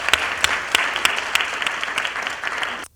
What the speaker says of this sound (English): So one more round of applause for our judges.